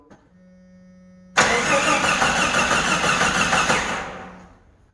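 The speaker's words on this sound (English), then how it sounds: "I'm gonna crank it for you. You can see how what it's doing." A 1989 Jeep engine cranking without catching: after a low hum, the starter kicks in abruptly and churns loudly and steadily for about three seconds, then fades away as cranking stops.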